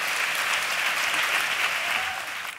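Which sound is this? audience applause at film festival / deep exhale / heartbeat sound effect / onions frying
audience applause at film festival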